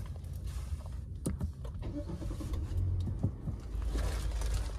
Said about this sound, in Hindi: तो ये गाड़ी हो चुकी है स्टार्ट देख सकते हैं।